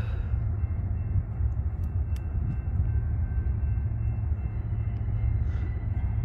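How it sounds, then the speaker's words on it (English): A steady low rumble of a BNSF and Ferromex freight train rolling past at a railroad crossing, with faint high squeals of brakes showing up briefly over the continuous drone. "I think you just hear the brakes on it"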